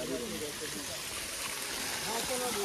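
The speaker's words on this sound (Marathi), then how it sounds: "हा इथे मस्त पाणी वाहत आहे." Water flowing steadily in a stream at Vandri Lake, a continuous close rushing wash that fills the clip, with voices faintly audible beneath it.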